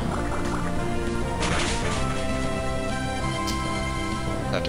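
Pokemon Emerald Water Gun attack effect, a dense rushing splash of watery spray with a couple of sharper bursts, running continuously and loud for several seconds.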